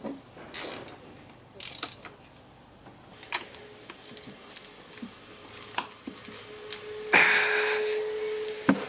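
Quick ratcheting clicks come in short bursts between pauses as a ratchet snugs intake bolts on a BMW S52 engine, close by, with scattered metallic taps and a faint background hum.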